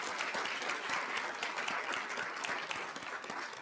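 Steady, dense round of applause from a seated audience at a school district governing board meeting, honoring selected students, heard at a moderate distance and continuing evenly throughout.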